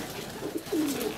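Pigeons coo softly at a dovecote, with low burbling calls that rise and swell near the middle and end, and no voices.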